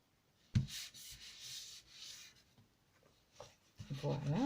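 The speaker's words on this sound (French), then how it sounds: "Il suffit de coller votre papier décoratif sur votre base de carte." Decorative paper is glued and rubbed down by hand onto a yellow cardstock card base, giving soft brushing and rubbing strokes with a few sharper taps, close and quiet.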